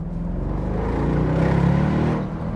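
A Bentley Continental V8S engine pulls hard under acceleration, a loud, steady, rising rumble heard from inside the car for a couple of seconds with no talking.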